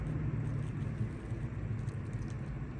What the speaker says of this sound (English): loud truck tire, underinflated in all likelihood by the sound of it too